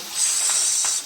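Cooked beef for a Kerala-style beef pickle drops into boiling oil, producing a loud, continuous sizzling hiss that holds steady for about a second, with faint spattering pops.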